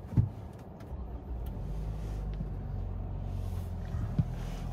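A 2021 Toyota Camry SE starting up inside the cabin: a short thump at ignition, then a low, steady idle hum that holds evenly, with a faint click near the end.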